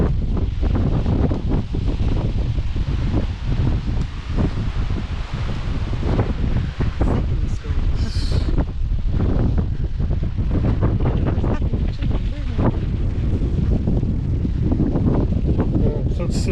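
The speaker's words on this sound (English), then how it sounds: "It's rather windy." Strong wind buffets the microphone continuously, a loud roaring rumble with gusty rustling throughout.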